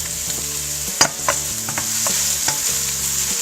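Onion and garlic fry in a little olive oil for a walnut and basil spaghetti, a steady close sizzle with a few sharp crackles and stirring clicks, no voices.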